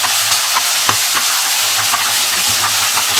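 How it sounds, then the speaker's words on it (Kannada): Onions and curry leaves fry in a pan, a loud constant hiss of sizzling oil with soft stirring scrapes and small pops mixed in. "ಈರುಳ್ಳಿ ಚೆನ್ನಾಗಿ ಫ್ರೈ ಆಗಬೇಕು."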